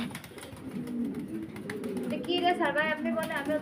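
Pigeons, including grizzle racers, cooing and fluttering on a pigeon farm, with soft warbling coos rising toward the end amid a person talking nearby.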